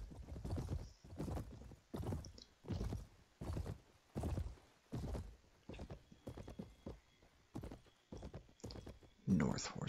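A horse's hooves clip-clop in the Bellum Imperii video game, a steady, close rhythm of about a dozen sharp thuds spaced under a second apart, with a short neigh-like burst near the end.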